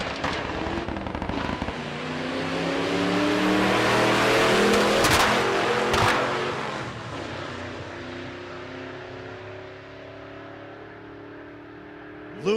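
A Ford Mustang drag racing in the left lane roars past at a race week event, its engine swelling loud as it passes and fading into the distance with falling pitch, then settling to a lower rumble.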